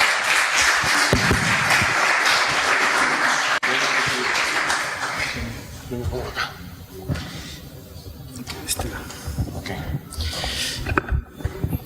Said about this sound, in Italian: do la parola subito al Pastore Mbraida, lo accogliamo con un applauso